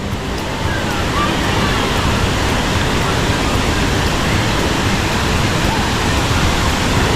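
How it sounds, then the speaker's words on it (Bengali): Monsoon-swollen waterfall in Meghalaya, a loud, steady roar of crashing water filling the whole clip without a break, close by and unbroken, with no voices audible. "বৃষ্টিতে ঝর্ণা পুরো দানবের মতো হয়ে গেছে দানবের মতো"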